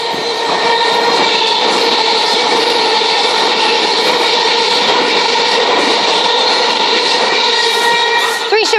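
A non-stopping Southern passenger train runs through South Croydon station on the Brighton Main Line, a loud, steady rumble with layered tonal whine that holds for about nine seconds.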